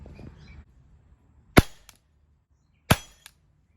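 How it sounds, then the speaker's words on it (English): Two sharp, close gunshots fired at targets, spaced over a second apart, each a crisp crack with a short tail, with quiet in between and a faint rustle at the start. "Let's go ahead and get the first shot out."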